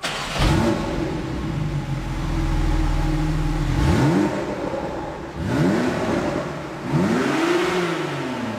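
A car with a 2.0 engine revving in a garage, several rising and falling bursts of engine roar with a steady idle between them, close and loud, no talk.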